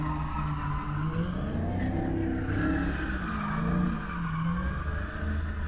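Drifting cars roar and skid around a track nearby at a Mecum car auction event in Kissimmee, engines droning loudly with tire noise sliding throughout.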